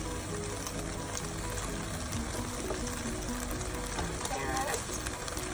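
Carrots tumbling into a pan of red curry with pork, a steady sizzle and bubbling frying noise running throughout, close and fairly loud, with light stirring clatter and no talking.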